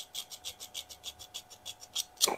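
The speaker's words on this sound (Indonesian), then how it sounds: "Kalau sudah lurus kita amplasi gini, ini kan amplas kasar" Coarse sandpaper rasps rhythmically across the ignition contact points of a Suzuki Katana Jimny, about a dozen quick, close back-and-forth strokes at a steady pace, ending in a sharper scrape.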